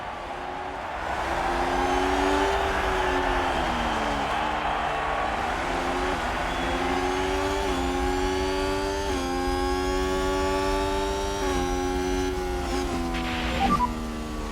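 Formula 1 cars in F1 Manager 22 pull away from the Monaco Grand Prix start, a dense pack of engines howling and climbing through gears together, loud and sustained, with one sharp high whine near the end.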